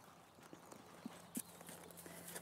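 Horse hooves clip-clop at a walk during a dressage lesson, with a few soft irregular hoof strikes on arena footing over a steady low hum, fairly faint and without talk.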